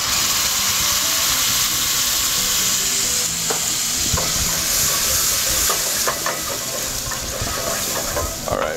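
Chopped tomato, about four ounces, lands in hot fat in a pan for an Italian dish and sizzles loudly and steadily, a broad, close frying hiss with occasional pops and stirring scrapes.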